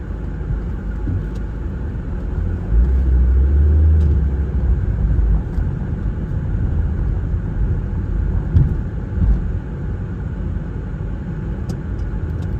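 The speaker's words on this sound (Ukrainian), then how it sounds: "А я їду собі далі для того, щоб запаркуватись в паркінг." A car drives through a city street under roadworks, a steady close engine and road rumble from inside the cabin with a brief swell of low noise partway through.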